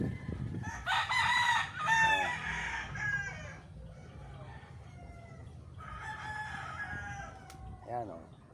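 Chickens and roosters on a farm with overgrown grass, crowing and clucking loudly in bursts, nearest in the first few seconds and again later, with a brief voice in the background.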